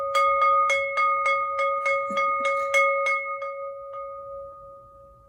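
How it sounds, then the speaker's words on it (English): A bright metallic bell strikes about a dozen times in a steady rhythm, each ringing tone lingering, the strikes fading out and leaving a decaying hum. "I'll hear the toll of the bell."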